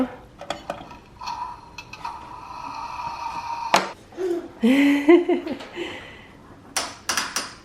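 Glassware clinks and taps several times nearby, with a ringing glass tone, some scraping handling sounds, and a brief voice-like murmur in the middle.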